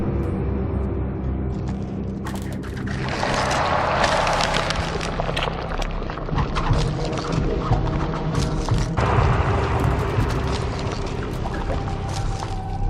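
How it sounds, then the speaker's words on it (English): The tentacled monster in the game Carrion moves along, with wet, squelching, slithering surges and rumbling mechanical clatter that swell and shift over a dense, continuous bed of noise. "as you move, you're going to be hearing your tentacles spreading all about"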